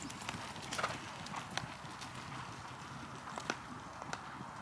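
Horse walking at a racing yard, its hooves clip-clopping in a steady, uneven rhythm on hard ground at moderate distance, with faint outdoor background and no clear talk.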